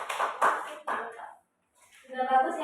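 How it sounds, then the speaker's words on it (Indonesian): Brief classroom applause for a student group, a few short bursts of clapping from the class, fairly close, followed by a pause and then a voice speaking. "tepuk tangan untuk kelompok 2"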